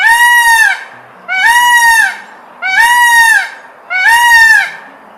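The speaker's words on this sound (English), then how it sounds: "Peacock." A peacock calls four times in a steady rhythm, each loud, nasal, honking wail lasting close to a second, with short quiet gaps between the cries.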